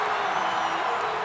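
A home crowd roaring at an athletics stadium in Rabat, Morocco, during an international meeting after a steeplechase victory, a dense continuous wash of distant cheering with a commentator's voice faintly mixed in.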